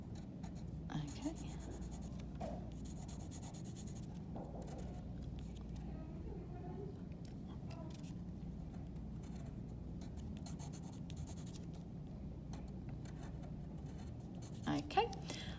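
Pencil shading on paper with steady soft scratchy strokes, close and quiet, continuing throughout under a low background rumble.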